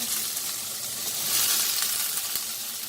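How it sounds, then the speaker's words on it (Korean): Garlic frying in hot oil in a preheated pan, giving a steady, close, dense sizzle with faint crackles throughout and no talking. "마늘과 마늘을 약간 튀기는 형식으로 파라 마늘을 해서 볶아주겠습니다."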